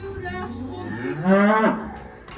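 Cattle in a handling crush ahead of vaccination give a loud, drawn-out moo that rises and swells midway, heard alone against low farmyard background noise.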